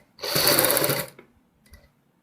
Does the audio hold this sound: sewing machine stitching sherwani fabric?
yes